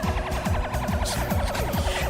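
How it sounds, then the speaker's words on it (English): Stream raid alert jingle: a looping synth melody with a steady bouncing beat, bright and continuous for the whole stretch, with no talk over it. "That's the sound of the raid."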